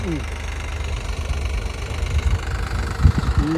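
A small tractor engine at a sugarcane planting job runs with a steady, low, chugging rumble close by, continuous throughout, with faint voices in the background.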